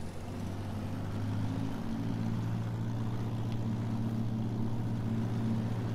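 A tractor pulling a hay rake, which is a little small for the tractor: a steady low engine drone with a constant hum holds evenly throughout, close and unchanging.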